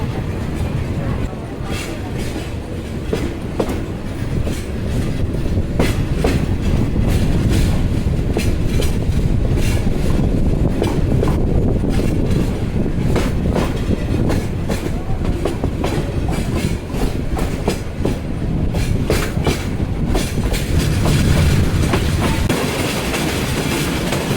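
The Parabat Express rolls along the rails at speed, with steady loud rumble and repeated clickety-clack of wheels over joints for the whole stretch, and some voices faintly in the carriage.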